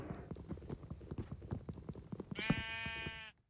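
In Minecraft, rapid hoof clip-clops patter for a couple of seconds, then a single loud, nasal goat bleat rings out and cuts off abruptly.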